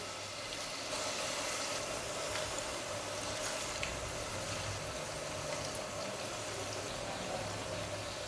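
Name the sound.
vegetable pakoras frying in hot oil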